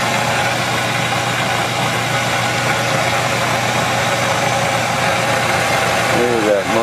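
A motor starts and runs in a continuous loud, steady hum with a rough mechanical vibration throughout, and a person talks over it near the end.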